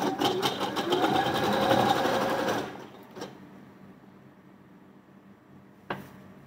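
A sewing machine stitches along a blouse armhole in a loud, fast, even whir for about two and a half seconds, then stops, leaving quiet room tone with a couple of faint clicks.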